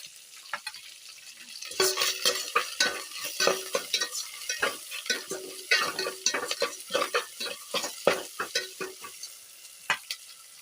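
Onions and tomatoes sautéing for a village-style chicken curry, with a spoon scraping and stirring the pan in repeated quick strokes over a soft sizzle, close and fairly clear with no talk.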